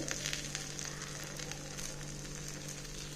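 Kara paniyaram fry in a pan, giving a constant close sizzle with fine crackling bursts throughout.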